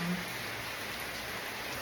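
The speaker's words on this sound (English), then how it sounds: "Look, it's raining." Rain falls outside on a Tuesday morning in the Philippines during the rainy season. It makes a steady, even hiss of drops on surfaces, moderately close, with no talking.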